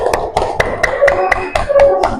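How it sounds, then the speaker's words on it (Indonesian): Brief classroom applause, a few seconds of quick irregular hand claps from a small group of students, close and fairly loud, with a faint voice behind. "Berikan tepuk tangan"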